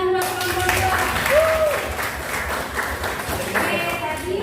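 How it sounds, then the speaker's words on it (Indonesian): A classroom of students claps for a group after a food presentation, a moderate, fairly even patter of hands with children's voices mixed in. "tepuk tangan buat kelompok 2"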